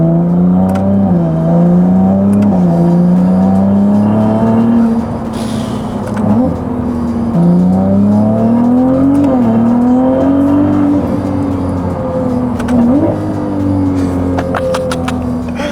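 Novitec-tuned Ferrari 296 GTB with its 3-liter hybrid V6 revving loudly and close, climbing in pitch through several gear shifts with short dips between pulls, alone with no talking.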